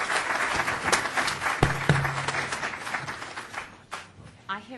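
Warm applause from a law conference audience, a broad wash of clapping that thins toward the end, with a voice briefly sounding over it.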